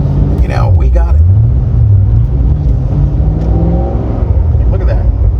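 A tuned 1000 hp Cadillac CT5-V Blackwing V8 rumbles and revs under light throttle, a deep, loud, wavering engine note rising and falling, with someone talking over it throughout.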